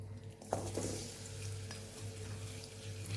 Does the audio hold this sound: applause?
no